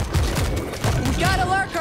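A heavy weapon in World War Z fires rapid booming bursts close up, mixed with shouted voices of players calling out over the gunfire.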